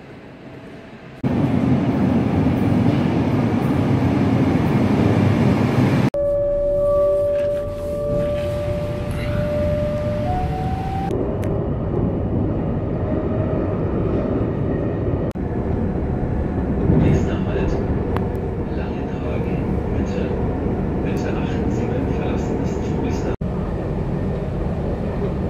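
Train ride in Germany toward Wolfsburg from Hanover, a loud steady rumble of rail travel with shifting low roar, a whining tonal stretch partway through and faint chatter in the carriage.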